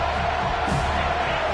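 A stadium crowd at a football game roars continuously as the defense has the offense pinned deep in its own end, a dense, loud wash of cheering with no break.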